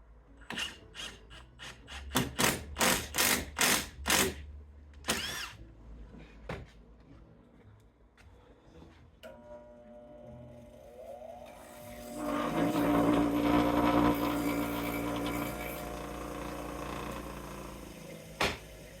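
Drilling shallow recesses into wood for a homemade kids' shopping cart steering wheel: a run of sharp rasping bursts early, then a longer, louder sustained whir of the drill biting in, close and alone with no talk.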